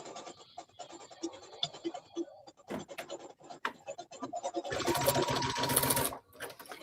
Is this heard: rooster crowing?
no